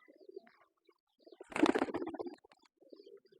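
Pigeons on a pigeon farm give a burst of low throaty cooing in the middle, with softer scattered coos before and after in a quiet, close setting.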